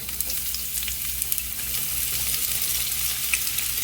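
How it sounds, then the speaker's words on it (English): Chopped onion hits oil heated to about 350 degrees for home fries, setting off a bright, steady hiss with scattered pops and crackles, close and continuous with no talking. "So we're going to add the onion."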